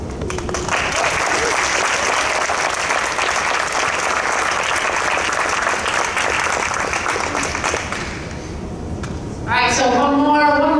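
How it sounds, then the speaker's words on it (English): A crowd at a school signing ceremony applauds loudly and continuously for about eight seconds before the clapping drops away and a voice starts speaking. "So one more. Major round of applause for Margo."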